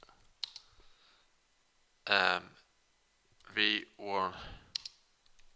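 A few crisp computer keyboard clicks while typing C++ code, sparse and close, separated by stretches of someone speaking.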